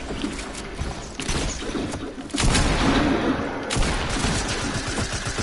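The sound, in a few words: gunfire in the video game Fortnite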